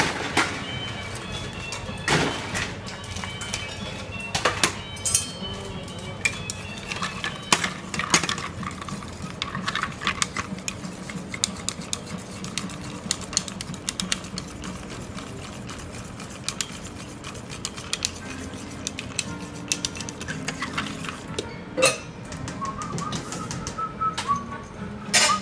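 Ice clinking and rattling in a mixing glass as a tequila cocktail is stirred behind a bar, with irregular knocks and clicks running steadily throughout and a few sharper taps standing out.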